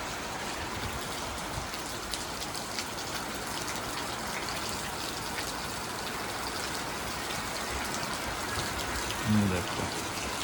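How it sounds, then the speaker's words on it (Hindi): Steady rain hisses across the whole clip, a broad wash of falling water with no distinct drops standing out, and a brief low thump near the end. "बारिश भी आ गई"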